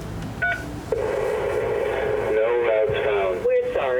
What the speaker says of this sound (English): After Googling the company and dialing the phone number